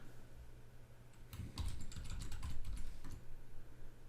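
Code is typed on a computer keyboard in a quick burst of clicking keystrokes, close and fairly loud, then the clicking stops and only quiet room tone remains.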